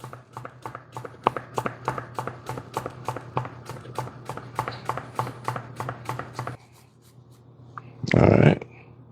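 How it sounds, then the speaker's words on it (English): Knife chopping green onion on a cutting board in a home kitchen, a steady run of close, crisp, rhythmic cuts that stops, followed by a short louder scraping burst near the end. "So we're going to cut up a little bit of green onion."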